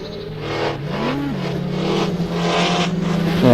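Race cars at the Patriot Grand Prix Group C event accelerate hard, one engine's tone rising and holding in a loud, close, sustained roar with a brief pitch swoop, other engines layered beneath.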